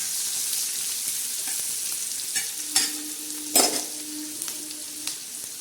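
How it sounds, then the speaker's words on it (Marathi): Onion sautéing in oil on a tava gives a steady close sizzle, broken by a few sharp scrapes and clinks of stirring against the pan, and no voices. "कांदा असा छान असा परतून घ्यायचा आहे."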